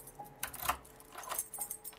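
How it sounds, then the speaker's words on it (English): Metallic key clinks and jangles in the fan-made Halloween video game while keys are tried on a door, several separate rattling bursts spread across the moment. "Press 1 to 4 to try out your keys."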